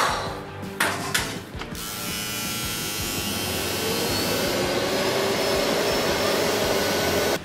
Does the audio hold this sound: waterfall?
no